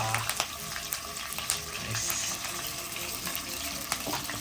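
Ginger garlic paste frying in sunflower oil with green chillies and curry leaves for fish pulusu, a steady close sizzle with small crackles and pops throughout, no talk.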